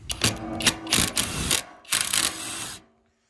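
Ratchet wrench loosening 10mm bolts on a generator fuel tank, several quick bursts of close clicking separated by short pauses, then silence.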